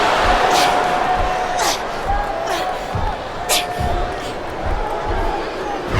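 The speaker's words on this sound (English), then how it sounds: "I can't remember the last time I seen a crowd so pumped up." Arena crowd cheering in the WWE Smackdown vs RAW 2007 wrestling video game, a steady roaring wash of fans with rising swells and occasional sharp slams from the ring, a commentator talking over it.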